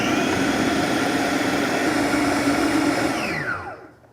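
A loud countertop blender purees soup ingredients with a steady, roaring whir that holds for several seconds, then winds down and fades out as it is switched off.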